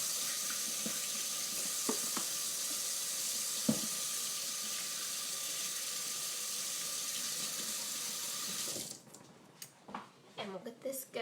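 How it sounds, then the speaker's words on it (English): Water runs steadily from a kitchen faucet into a sink while hands are washed under it, a constant hiss with small splashes, then the flow shuts off and quieter handling sounds follow. "So I'm going to wash my hands real quick."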